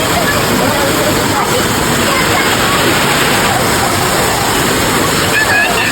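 A waterfall approached on foot outdoors, a steady, loud broadband roar of rushing water filling the whole clip without a break.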